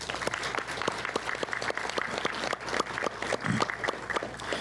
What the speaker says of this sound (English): let's give Ricky a round of applause.